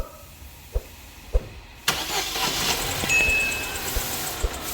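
A car engine with a burnt valve is heard as a few sharp clicks, then the engine starts and settles into an uneven, rough idle, close and moderately loud.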